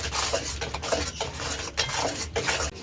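A pot of spices and meat frying under its lid, with a steady close sizzle and scrapes of a spoon stirring against the pan.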